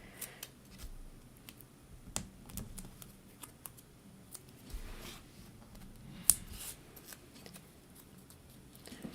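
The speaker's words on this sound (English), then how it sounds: "I'm just cutting my tape in half there" Tape is cut in half during a paper craft project making stamped note cards, giving soft, faint snips and light crinkly handling noises that repeat in a loose rhythm, close by and quiet, without talking.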